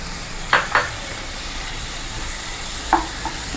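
Chopped tomatoes for an Andhra-style kakarakaya (bitter gourd) curry go into a sizzling pan, a steady frying hiss with a few quick scrapes of stirring, close and without talk.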